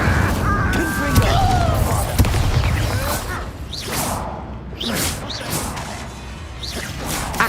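A Confringo fire spell cast in the Hogwarts Legacy video game, bursting out as sharp whooshing blasts and thuds over a busy bed of game effects, with a few strikes landing in quick succession.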